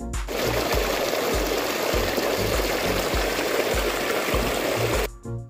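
Irrigation water gushes steadily into a maize field with a constant rushing sound, while a pump motor thumps in a regular rhythm underneath.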